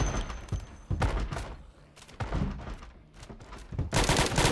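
A shotgun in the Project Zomboid video game, inside a prison on a roleplay server, fires in several sharp, loud blasts at an irregular pace, ending in a dense, heavy burst.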